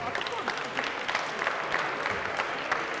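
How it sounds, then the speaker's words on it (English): Audience applause at a university engineering design competition, a dense continuous clatter of many hands at steady strength for the whole stretch, close and fairly loud with faint crowd murmur mixed in. "give them a round of applause"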